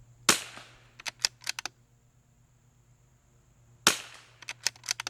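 Two sharp .22LR rifle shots fired at long-range targets outdoors, each a crisp crack followed by a cluster of fainter distant echoes or impact pops, with quiet between them.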